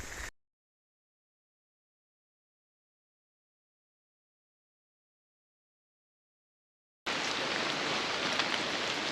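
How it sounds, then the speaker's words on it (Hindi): Heavy rain falls steadily on a trek route in Uttarakhand, a dense broadband hiss that cuts in abruptly after a long silent gap and then holds loud and unbroken with no one talking. "बारिश फिर से तेज़ हो गई है"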